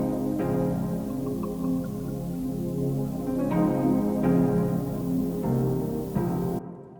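A lo-fi house track runs through a warm saturator preset, giving steady, mellow chords with a soft noisy texture and a few sharper accents before it cuts to silence at the end.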